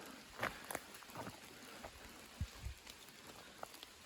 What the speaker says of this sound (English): I heard a rush of raindrops through the trees